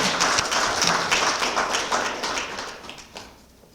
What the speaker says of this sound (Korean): 유정복 시장님께 감사의 큰 격려 박수를 다시 한번 보내주시기 바랍니다